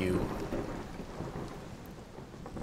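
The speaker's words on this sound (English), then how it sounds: "You hear thunder above you" Thunder rolls low and distant through a steady rainstorm, a continuous rumble under the hiss of falling rain.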